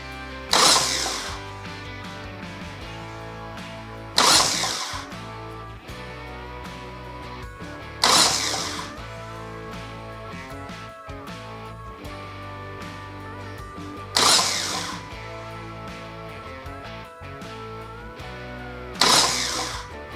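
Harley-Davidson Sportster 1275 engine being bumped over on the starter with the spark plugs removed, heard as about five separate short, loud cranking bursts spaced a few seconds apart, with a quieter steady hum in between.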